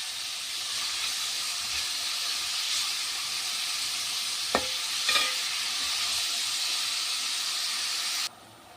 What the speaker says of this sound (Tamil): மஷ்ரூம் சேர்த்து நல்லா வதக்கி விட்டுருங்க